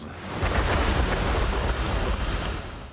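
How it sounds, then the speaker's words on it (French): Huge waves crash and strong winds roar along the coast during Hurricane Ophelia, a dense, loud continuous surf-and-wind rush without voices. "Le littoral a été frappé par des vents violents et des vagues énormes."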